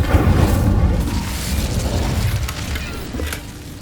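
An Incendio fire spell cast in the game Hogwarts Legacy gives a deep, booming whoosh of flame that starts loud and slowly fades over a few seconds, with no talk.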